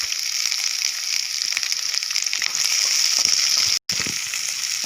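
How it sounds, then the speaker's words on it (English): Onions stirred into hot oil with crackling mustard seeds and curry leaves for an omelette curry, giving a loud, steady close hiss with faint crackles and a brief cut near the end. "When the mustard starts cracking, put the onions and stir well."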